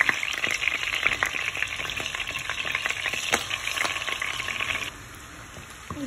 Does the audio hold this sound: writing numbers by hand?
no